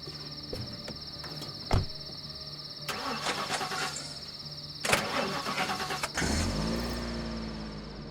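A car engine in The Last Stand: Aftermath video game is started after being repaired: sharp clicks and clunks come first, then the engine catches near the end and settles into a low rumble, with faint cricket-like chirping underneath.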